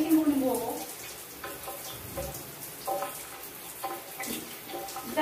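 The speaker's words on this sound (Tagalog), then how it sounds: "Maliligo na ako." Shower water running while someone bathes, a steady splashing hiss with uneven bursts as the stream hits skin and floor, close and fairly quiet, with occasional voice.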